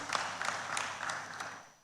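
Audience applause for a speaker at a West African clean energy and environment conference, a fairly faint, steady patter of clapping from a crowd lasting a couple of seconds and fading at the end.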